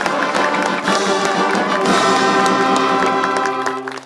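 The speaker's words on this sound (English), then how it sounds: "Let us continue clapping, ladies and gentlemen, for the National Defense University," Audience clapping steadily at a Kenyan university charter ceremony for the National Defense University, Kenya, a dense sustained round of applause with a faint tonal music or horn layer underneath, holding level throughout.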